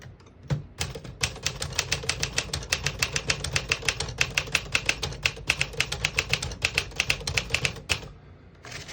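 Rapid mechanical clacking of a 1957 Smith-Corona Silent-Super portable typewriter's keys, dozens of crisp strikes in quick, fairly even rhythm, close and alone, with a short pause near the start.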